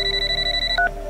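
A telephone rings with a brief electronic tone pattern, a steady sustained pitch that shifts to a short higher chirp, heard alone over a low background hum.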